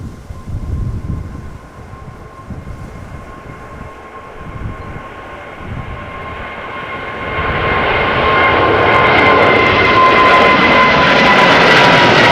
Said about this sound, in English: On the move now, KLM flight 677, 777-200, ER, 19 years old.